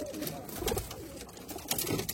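A Rajshahi Girbaz pigeon held in the hand coos in low, close, rolling phrases, with faint handling rustle around it.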